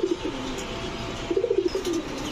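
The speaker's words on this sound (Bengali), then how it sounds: "এখন দেখাবো এক জোড়া চান্দিলাল কবুতর" A pair of Chandilal pigeons, a male and female, coo softly nearby in a short run of low rhythmic notes over a faint, steady background.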